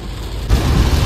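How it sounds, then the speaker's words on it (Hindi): Thunder and heavy rain heard from inside a car: a dense wash of rain drumming on the roof, with a deep rumbling boom swelling in halfway through, close and loud. "ये देखो बिजली कड़क रही है।"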